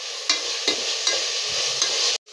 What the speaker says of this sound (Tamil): அதையும் சேர்த்து நல்லா அந்த எண்ணெயிலே வதக்கி